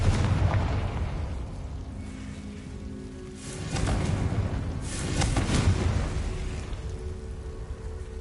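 Confringo spell explosions in the video game Hogwarts Legacy, a couple of heavy booming blasts with crackling, rain-like debris, rising and fading over a steady ambient hiss.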